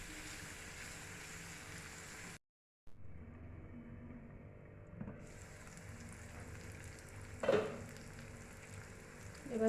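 Paneer bhurji masala with chopped tomatoes frying in a pan makes a soft, steady sizzle, briefly cut off, then returning with a few light clinks and stirring scrapes near the end.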